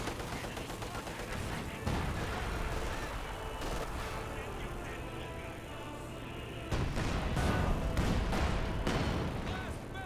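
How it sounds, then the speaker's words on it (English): Mortar shells from a 120mm mortar land in a Company of Heroes 2 battle as dense, continuous booming impacts and crackling gunfire, with a louder burst of explosions toward the end. "Great mortar hits there. Good shot there in the 120mm mortar."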